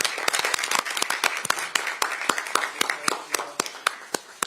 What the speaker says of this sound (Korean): 환영의 큰 박수를 부탁드립니다.